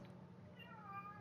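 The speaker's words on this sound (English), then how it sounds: "Oh, and now my cat's screaming at me." A pet cat meows insistently, one drawn-out rising cry standing out over a quiet room hum, fairly close but not very loud.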